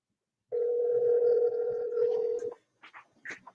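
A telephone dial tone sounds steadily for about two seconds from a played phone call, followed by a handful of short clicks and beeps.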